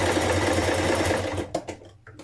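A sewing machine fitted with a buttonhole foot stitches the bar of a buttonhole, with a steady rapid whirring hum that stops abruptly after about a second and a half, followed by a few faint clicks.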